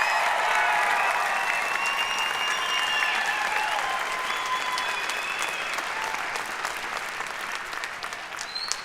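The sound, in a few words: convocation audience applause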